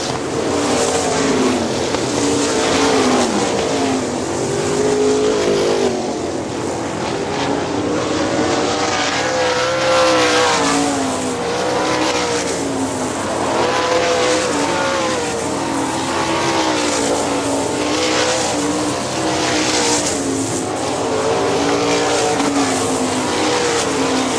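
410 sprint race cars roaring around the half-mile Hartford Speedway Park in Hartford, Michigan, engines howling and rising and falling in pitch as cars pass in waves, loud and continuous for the whole stretch.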